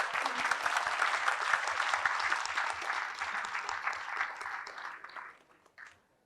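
A quiz event audience gives a full round of applause: dense, sustained clapping from many hands at moderate volume that holds steady for several seconds and then quickly dies away.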